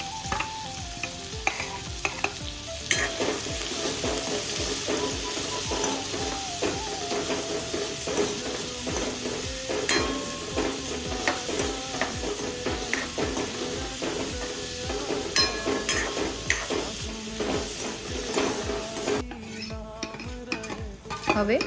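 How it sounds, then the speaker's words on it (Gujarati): Chopped onions sauté in a pan with a steady frying sizzle, overlaid by frequent scraping and clinking of a spoon stirring against the metal for the full stretch. "હવે તેમાં આપણે જે ડુંગળી સમારીને રાખેલી છે તેને સાંતળી લઈશું સારી રીતે"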